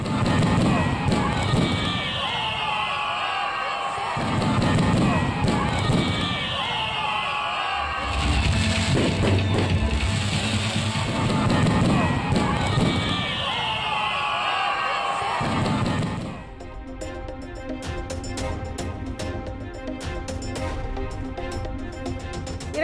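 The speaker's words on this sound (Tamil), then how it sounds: "பட்டாசு வெடித்து புது வருடத்தை வரவேற்ற மக்கள்." Crackling bursts of fireworks and firecrackers go off repeatedly at a 2025 New Year celebration in Chennai, under a loud cheering crowd.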